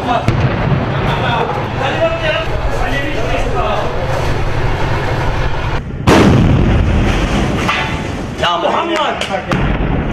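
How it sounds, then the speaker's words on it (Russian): Heavy artillery blasts boom through a noisy battlefield in Al Kabun, Syria, with one especially loud, sharp shot midway followed by rumbling echoes and other distant reports. "И на десерт удар артиллерии."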